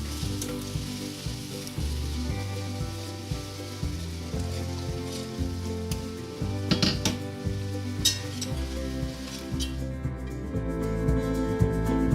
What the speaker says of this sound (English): we want to whisk in just a little bit at a time some vegetable stock